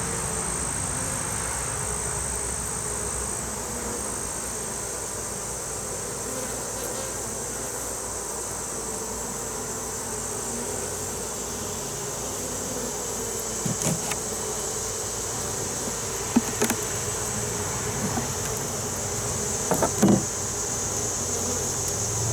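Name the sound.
bees buzzing around hive frame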